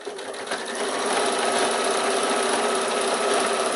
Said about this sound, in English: Sew down to that corner.